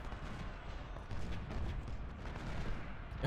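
Musket volleys in the Ultimate General: Civil War video game, with distant, fairly quiet crackling rifle fire in overlapping bursts and a swell partway through, like a second volley joining in.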